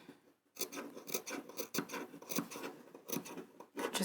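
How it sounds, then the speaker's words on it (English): Scissors snip repeatedly into the curved seam allowance of fabric while sewing, a run of short crisp cuts close by with a brief pause near the start and another gap near the end. "I'm going to snip into the curves around here as well, just so that the seam lies flatter when I turn it the right side out"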